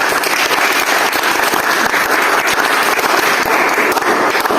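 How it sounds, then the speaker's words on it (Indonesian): Dense, steady clapping fills a classroom as students applaud a student group at a vocational high school, sustained at even loudness for several seconds without voices. "Ya, kita beri aplaus kepada kelompok Bintang ya."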